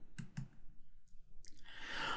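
Two quick, faint mouse clicks in close succession placing a point light in SketchUp, followed by a soft breathy sigh-like hiss.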